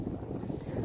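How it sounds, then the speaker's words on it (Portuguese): Strong wind buffets the microphone outdoors beside a car with a Ford-Volkswagen engine, a continuous low roaring rush with no voices. "tá fazendo muito vento"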